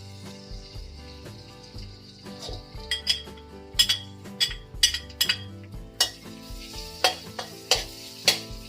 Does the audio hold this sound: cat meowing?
no